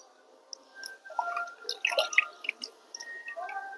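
Water splashing and trickling while a dirty bonsai pot for a Chinese ficus is rinsed clean: scattered close drips and wet rubbing sounds, uneven and fairly quiet, with no talk.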